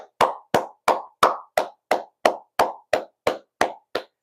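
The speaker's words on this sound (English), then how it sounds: "Jamal Hill, let's give him a round of applause." A single clapper strikes about twelve sharp, evenly spaced claps, close and isolated against silence, giving Jamal Hill a round of applause on a live stream.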